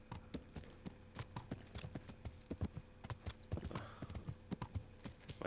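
Horse hooves clip-clop steadily on the ground in the medieval game Kingdom Come: Deliverance, a close, even walking rhythm of sharp knocks with a faint background and no talk over it.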